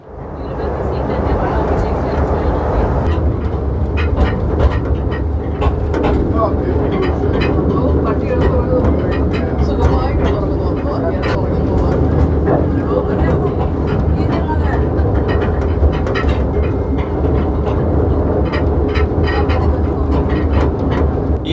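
A continuous rumbling, rattling drone of a small, slow tourist train crossing a bridge, steady and fairly loud throughout, with no talking.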